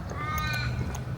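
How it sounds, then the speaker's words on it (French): Crows cawing near a skatepark in Bunbury, Australia, a few harsh calls over steady outdoor background noise. "Ils font que de gueuler ces corbeaux de cons."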